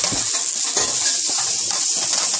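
Onions roasting in a pan with ginger and ground cinnamon for a vegetable biryani, a bright continuous sizzle with utensil scrapes and clatter against the pan, close and fairly loud, no talking.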